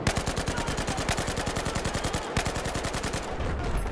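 Rapid automatic gunfire in a video game, aimed at a tank: a fast, even stream of sharp shots rattling close and loud, briefly pausing near the end.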